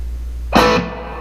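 A short electric guitar strum through an amplifier with reverb rings out and then leaves a fading tail over a steady low hum.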